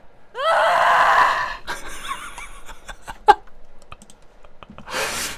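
A woman screams loudly for about a second as a sound-effect recording, followed by scattered clicks and some rustly noise, then a second short scream at the end.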